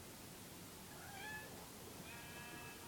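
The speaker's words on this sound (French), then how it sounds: "Petit chat." A cat gives two short meows, thin and fairly faint, over a constant hiss of background noise.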